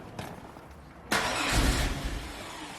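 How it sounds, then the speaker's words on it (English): A 1998 Pontiac Firebird's 3.8-liter V6, which has an idle fault, cranks briefly, then catches with a sudden loud burst and runs roughly for about a second before fading, recorded nearby without talking. "I'll go ahead and show you that if I start the vehicle up,"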